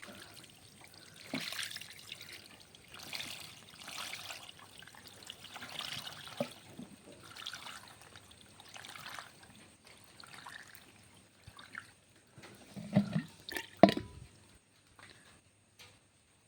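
Water is poured into a fish tank in intermittent soft trickling bursts, faint and close, with splashy spurts near the end and no talk.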